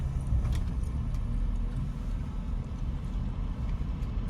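A car engine drones steadily from inside the cabin during a driving lesson, a low continuous rumble with road noise and no clear rise in pitch, with no talking.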